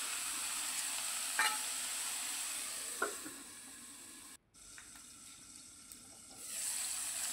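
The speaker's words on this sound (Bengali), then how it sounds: "এবার বেগুনটাকে একটু ঢেকে ঢেকে হালকাভাবে একটু ভেজে নেব" Eggplant fries in a covered pan for a greens dish, giving a soft, even sizzle with a few light taps, a brief drop to near silence, then a fuller hiss returning.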